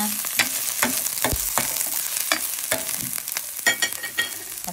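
Garlic, onion and ginger sauté in a Saladmaster skillet with a continuous close sizzle, punctuated by regular scraping and stirring knocks of a utensil against the pan, no voices over it.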